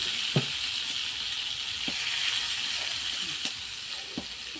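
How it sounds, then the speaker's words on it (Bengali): Water hits a hot pan while cooking ghate kol (kharkol), producing a steady bright sizzle and hiss of steam with a few faint knocks, close and continuous. "এখন দিয়ে দেবো একটু জল।"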